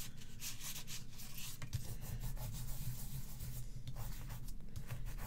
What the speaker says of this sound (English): the adhesive, I'm not going to rub it off there, but it comes off here so easy